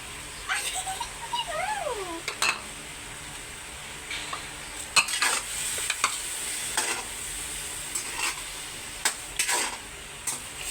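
Food sizzling in a pan while a utensil scrapes and stirs in irregular strokes, with a few brief high squeaks; no one speaks.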